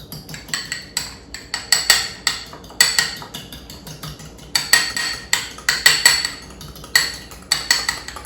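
An egg is beaten in a bowl with a fork, giving quick, rhythmic, bright metallic clinks of the utensil against the bowl, in bursts close to the listener.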